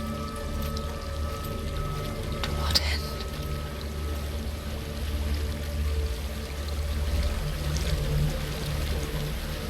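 Steady flowing water in the dark fantasy game Hellblade: Senua's Sacrifice pours as a constant low wash throughout, while a voice speaks briefly over it.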